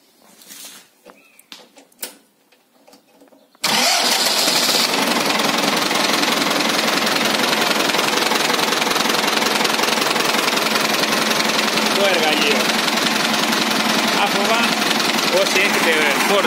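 A Ford 6600 tractor engine with a new starter motor starts on a frozen day. A few seconds of sporadic clicks and cranking lead into a sudden loud, rough, continuous diesel roar that holds steady at idle, recorded close.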